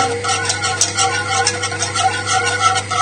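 A whisk scrapes steadily and rapidly in a pan, beating butter into a heated lamb shank sauce. The swishing is close and continuous, with a low hum underneath and no voices.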